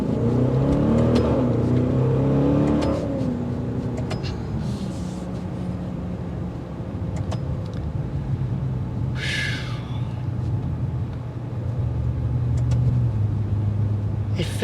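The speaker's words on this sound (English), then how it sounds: "I like the sound of a Ferrari engine" A 2022 Maserati Levante Modena S in sport mode revs up and accelerates, its engine tone climbing and shifting through gears, then settling into a steady cabin drone, with a brief rustle partway through.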